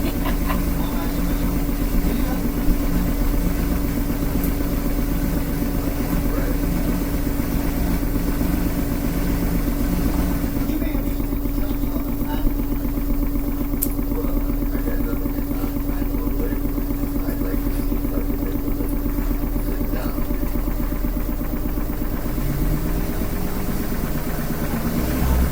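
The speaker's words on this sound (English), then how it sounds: "It sounds like some kind of washer." An LG WM3600HWA front-load washing machine hums steadily through a heavy duty cycle, a constant motor drone with a faint rising whine near the end, close by and unbroken for the whole stretch.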